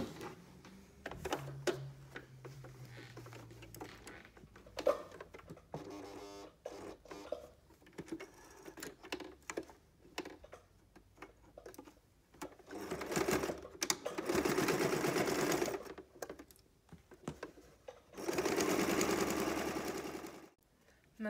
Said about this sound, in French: faire une piqûre sur la longueur pour tenir ce morceau avec l'autre morceau dessous